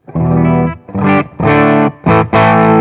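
Loud, heavily distorted electric guitar with deep bass, played as five sustained chords separated by short gaps.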